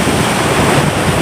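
Atlantic Ocean waves crash on a beach at San Juan, Puerto Rico, producing a continuous loud roar of surf mixed with wind buffeting the microphone.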